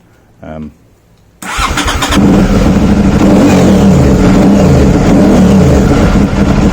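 A brief murmur, then an Aprilia Shiver 750 motorcycle engine fires up and idles roughly before revving loudly, dipping on the down rev, close by and dominant throughout.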